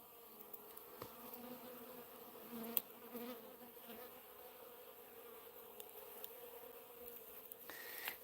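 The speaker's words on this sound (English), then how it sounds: "Now I've got some yellow jackets that are coming in and out too, but just a whole bunch of honeybees." Honeybees and yellow jackets buzz steadily around a homestead feeder, a soft continuous droning swarm with individual insects passing close now and then, no voices.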